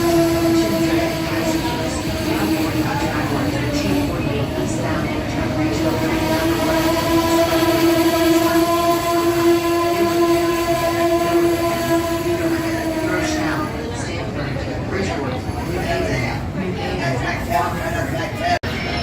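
An Amtrak train at Trenton Transit Center, a long steady horn-like tone with harmonics sounding loud and close over rumbling rail noise, easing off toward the end while people talk in the background.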